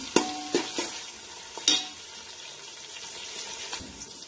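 Onion and tomato roast in a pan for Maharashtrian masale bhat. A few sharp spoon clinks and scrapes of stirring sit over a faint, low sizzle, with no talking.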